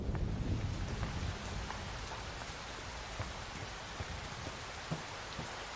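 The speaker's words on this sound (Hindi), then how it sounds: "आ जाओ, बारिश आने वाली है," Steady rain falls on surfaces with soft patter and scattered drips, while a low thunder rumble rolls in near the start before fading; faint overall, no voices.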